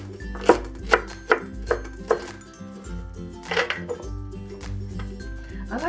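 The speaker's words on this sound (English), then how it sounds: "I just like to cut it into slices" Knife chopping bok choy into slices on a cutting board, sharp close thuds in a steady rhythm over background music.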